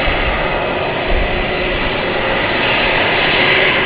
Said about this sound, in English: An Airbus A321neo arriving from Los Angeles, flight 193. Spirit Airlines.